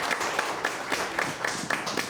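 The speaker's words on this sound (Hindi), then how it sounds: "बहुत ज़ोरदार तालियां" Studio audience at a televised Ramadan speech competition breaks into applause, a dense steady patter of many hands clapping close and loud throughout.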